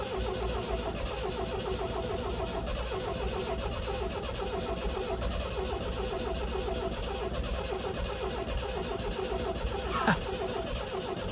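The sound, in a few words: 1980 MGB Roadster engine cranking, trying to start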